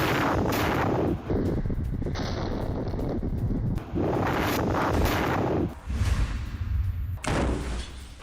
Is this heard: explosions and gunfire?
yes